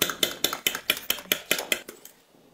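Seasoned eggs mixed with curry, beaten in a bowl with a fork or whisk in quick regular taps, about a dozen strokes close up that slow and fade out at the end.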